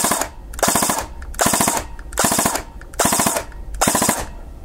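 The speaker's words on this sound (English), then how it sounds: "Has obviously been reduced for the 4-round burst there. Sorry, 5-round burst." An airsoft gun running a Perun AB++ mosfet fires repeated five-round bursts, each a rapid mechanical rattle followed by a short pause, loud and close, six bursts in steady rhythm with no talking.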